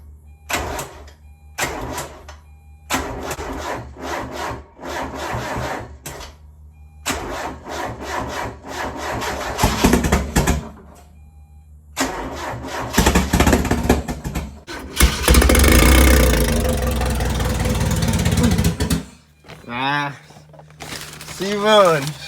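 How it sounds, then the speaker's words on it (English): A Mazda Miata engine cranks over in repeated rhythmic starter bursts separated by pauses, then catches and runs roughly and loudly for several seconds. A person talks between the attempts. "So I'm going to crank it a few times to make oil pass through."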